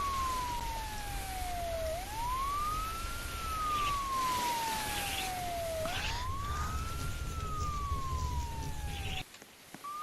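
A fire engine's siren wails in long, slow rising and falling sweeps as the truck arrives, steady and fairly strong over a constant rumble of background noise, then cuts off abruptly near the end.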